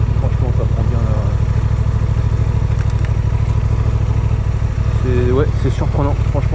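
A Honda Transalp 750 motorcycle rides over bumps, its engine running loud and close with a constant throbbing beat. Someone talks over it in short bursts.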